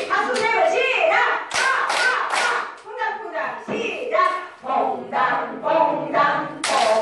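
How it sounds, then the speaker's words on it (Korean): A senior exercise and laughter class claps in short, sharp group bursts, sets of rhythmic claps separated by brief pauses, with an instructor's voice and singing mixed in among them. "박수 세 번 하고 시작"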